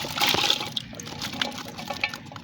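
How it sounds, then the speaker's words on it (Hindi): Half a glass of water poured into a cooking pot of minced meat with potato, ginger and garlic, giving a short splashing gush followed by softer trickling and bubbling. "आधा गिलास पानी शामिल करेंगे।"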